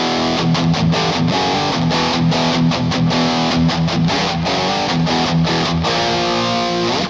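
Loud, continuous old-school rock distortion: a thick, saturated, buzzing guitar-like tone playing in a rhythmic stop-start pattern with no speech over it.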